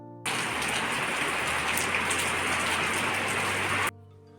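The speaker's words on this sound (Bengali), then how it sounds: "প্রচণ্ড বৃষ্টি হচ্ছে, কাল সারা রাত বৃষ্টি হয়েছে।" Heavy rain on a cold winter morning, pouring down as a loud, steady, unbroken roar of drops. It starts and stops abruptly, with no talk over it.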